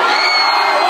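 A concert crowd at a freestyle rap show screams and cheers loudly and steadily, a dense wall of whoops and shouts with no pauses.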